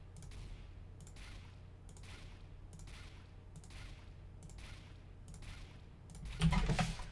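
SG553 assault rifle in Counter-Strike: Global Offensive, firing single shots at an even, steady pace, each a sharp crack with a short decay, about eight in a row, with a louder burst near the end.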